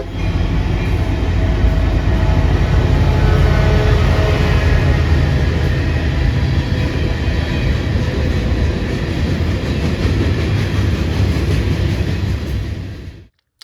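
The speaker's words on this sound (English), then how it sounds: "a UP SD70M leading a UP transfer" A Union Pacific SD70M diesel locomotive leads a transfer train past at close range, its loud, steady engine rumble and rolling wagon noise filling the whole stretch before cutting off abruptly at the end.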